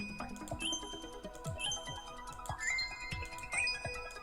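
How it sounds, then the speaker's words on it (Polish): A mobile phone beeps repeatedly, about once per second, giving four short electronic tonal chirps over a busy background of soft clicks and rustling. The phone sits nearby during play of a lottery scratch-card game. "takie pikanie słyszycie, to u mnie w telefonie"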